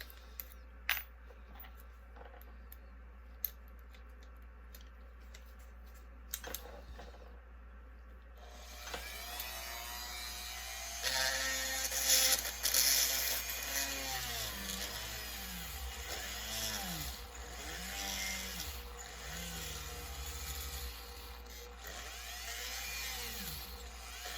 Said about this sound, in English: I got to drill one more hole